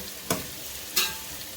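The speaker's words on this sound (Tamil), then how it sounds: "இதை வந்துட்டு நல்லா வதக்கிறதுக்கு விட்டுறலாம் கொஞ்சம் நேரம்." Onions with ginger and garlic sizzle in a pan, a steady close frying hiss broken by two brief bursts of stirring.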